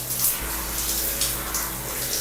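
A hand shower sprays steadily while a hair system is washed in a shower, giving a continuous close hiss of running water with slight surges and no talk.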